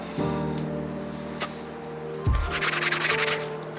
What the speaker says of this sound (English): I've just sanded this smooth.